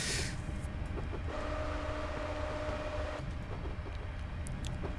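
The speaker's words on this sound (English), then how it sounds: "This train is slow when it wants to be." A Fife Circle Line train in Train Simulator 2021 rolls along with a low steady rumble, a faint sustained tonal whine in the middle and occasional light clicks, heard alone without talk.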